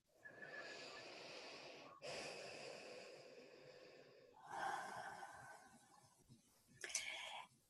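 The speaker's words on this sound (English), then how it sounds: "I'm just going to ask everybody to just take a breath with me again" A group inhales deeply together, followed by long audible exhales in several breathy waves, soft and close with no talking.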